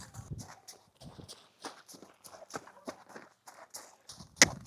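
Horse hooves clip-clop on the ground during lunge training, a series of light, rhythmic trotting beats, fairly faint and close, with a sharp louder knock near the end.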